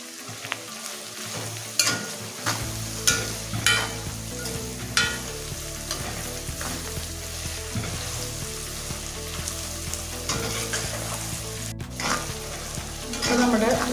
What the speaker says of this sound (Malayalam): സവാള പെട്ടെന്ന് വഴന്ന് വരാൻ വേണ്ടിയിട്ട് നമുക്ക് ഒരല്പം ഉപ്പ് ചേർത്ത് കൊടുക്കാം.